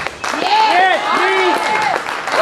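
A crowd at a talk answers a question by applause, with clapping under loud whooping and shouting voices for a couple of seconds.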